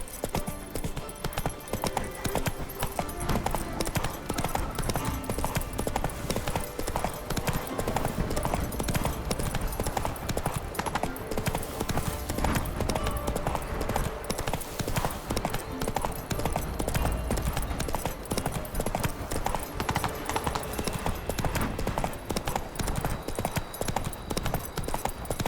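Roach the horse gallops in The Witcher 3, with rapid, steady clip-clop hoofbeats that stay close and loud for the whole stretch, backed by a constant rushing layer of ambience.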